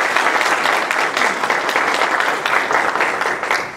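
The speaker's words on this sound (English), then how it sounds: "another round of applause" A lecture audience claps steadily and loudly for several seconds, a dense, continuous patter of many hands with no voices on top.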